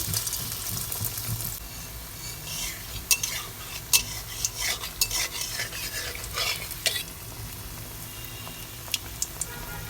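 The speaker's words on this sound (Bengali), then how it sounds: "অল্প আঁচে আমি এটা ভেজে নিব" Steady oil sizzle from egg-battered bread slices frying over low heat, with occasional scraping and clinks of a utensil against the pan; no talking.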